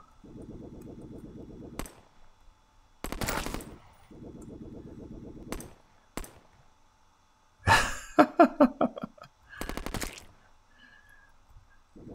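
Gunfire from shooting bunnies in Terraria, heard as several short separate bursts of rapid shots spread over the stretch, with quieter hum between them and a dense crackling cluster near the end.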